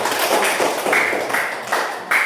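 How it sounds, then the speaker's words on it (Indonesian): Hands clap together in a brief burst of applause from a small group at the end of a classroom presentation, a dense patter of claps lasting about two seconds. "Ya, tepuk tangan."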